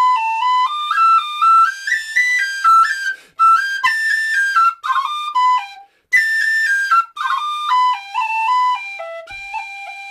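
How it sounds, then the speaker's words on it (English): A tin whistle plays a fast Irish reel phrase with crown ornaments and an extra cut, bright clear notes in quick runs broken by brief breath gaps, heard close and alone. "adding that extra cut makes the crown sound a little bit fuller"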